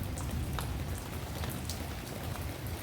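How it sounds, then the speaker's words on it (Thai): Steady rain falls, a dense hiss with scattered drops pattering nearby, continuous and fairly loud, with no voices. "นี่นะคะ ฝนกำลังตกนะคะ"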